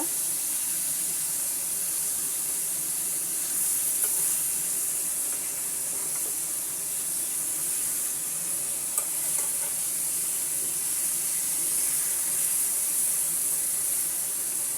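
Fried tilapia fish sizzling in a pan of oil and spice masala, a steady dense crackling hiss that holds evenly throughout, close and moderately loud, with no voices.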